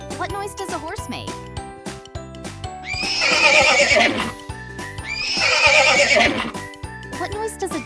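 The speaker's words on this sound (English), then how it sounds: "What noise does a horse make?" A horse neighs twice in a toddler's animal-sounds learning game: two loud, shrill whinnies a couple of seconds apart, each falling away, over bouncy children's music.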